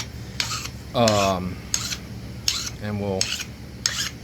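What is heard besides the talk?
sharpening a flintknapping pressure flaker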